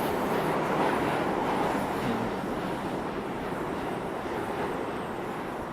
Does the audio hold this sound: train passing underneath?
yes